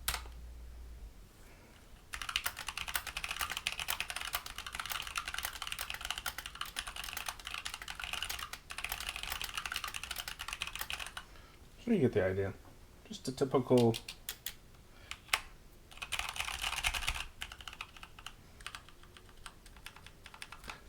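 Someone types steadily on a Hexgears Supernova mechanical keyboard that has been rebuilt, with stock-style OEM keys that sound slightly scratchy. The keys clatter in a quick, continuous rhythm, interrupted by short pauses and a couple of brief spoken remarks.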